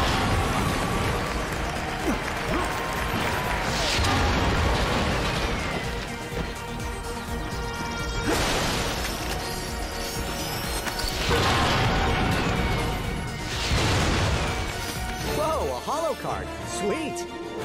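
Ammunition crates smash open repeatedly in Ratchet & Clank on PS5, a series of loud crashing breaks and clattering debris spaced a few seconds apart, layered with game effects and a narrating voice throughout.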